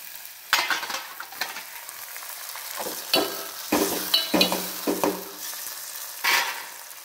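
Tomato goes into a pan with browned onion and is stirred, a soft steady sizzle punctuated by several scraping, clacking stirs of a spoon, close and without talk.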